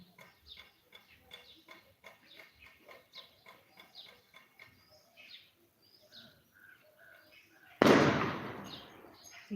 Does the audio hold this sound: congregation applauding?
no